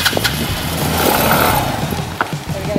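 Motorcycle engine in Vietnam sputtering as someone tries to start it, rough uneven revving with short bursts and dips suggesting a stall, close and loud, with people talking nearby.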